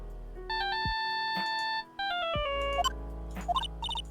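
A phone ringtone chimes in Ace Attorney Justice For All, a bright electronic melody of stepped tones playing in two clear bursts with a short gap between them, followed by a few quick blips.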